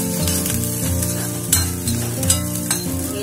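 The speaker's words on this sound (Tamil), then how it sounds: "இதுலயே வதங்கணும்" Orange peel sautés in a pan with a steady, close sizzle and crackle that runs throughout, marked by a few brief louder pops and stirring scrapes and no voices.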